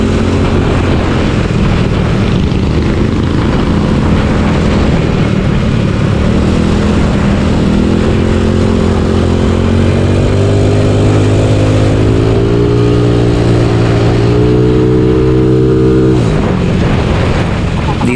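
Yamaha Mio sporty scooter engine on a ride from Robinson toward SM, a steady loud drone with rising pitch sweeps as it accelerates, easing off near the end.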